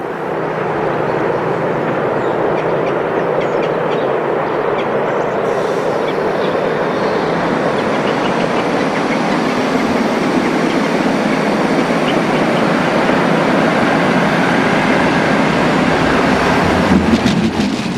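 Locomotives haul a UK charter railtour train near Lazenby on a thinning foggy day, a loud, steady, broadband rumble that holds throughout without a break.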